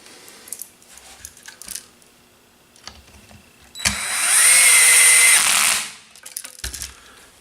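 A power driver runs bolts into a motor mount on an airframe in one sustained whirring burst of about two seconds, loud and close, set between quiet handling clicks and small taps.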